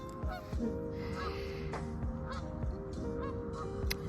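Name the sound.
goose honking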